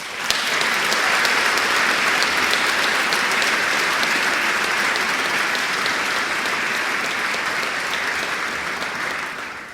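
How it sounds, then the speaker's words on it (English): Sustained, loud audience applause at a New Hampshire governor's inauguration ceremony, a dense even wash of clapping from a large crowd lasting nearly ten seconds before easing slightly at the end. "I'm going to need another round of applause"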